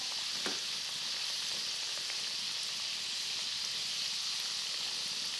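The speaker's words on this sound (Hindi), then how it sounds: "अब हम इसे गोल्डन होने तक फ्राई करेंगे।" Papdi crisps made from a stiff semolina dough fry in hot oil, giving a dense, even, hissing sizzle that holds steady throughout. One brief faint knock comes near the start, and no one speaks.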